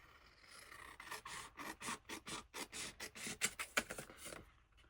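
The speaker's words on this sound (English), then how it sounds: "using the same pair of scissors to cut it off" A pair of scissors snips through paper offcuts up close, a quick run of about a dozen rhythmic rasping cuts that stops abruptly, with no talking.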